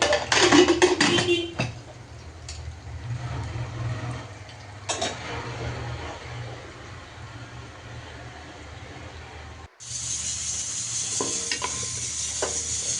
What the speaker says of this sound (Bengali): এরপর আমি কতগুলো পেঁয়াজও দিয়ে দিলাম একসাথে ভেজে নামিয়ে ফেলবো